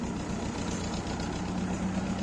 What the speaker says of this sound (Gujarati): ટ્રેક્ટર થયું ચાલતું